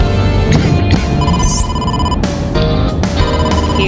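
A phone rings in AI: The Somnium Files, its repeated bright electronic tone sounding over steady game music and effects, loud and close throughout.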